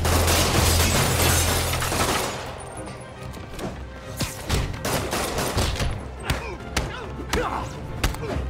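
Rapid gunfire from armed thugs in the Marvel's Spider-Man video game, a loud continuous burst at first, then scattered sharp shots and impacts over a busy combat soundtrack.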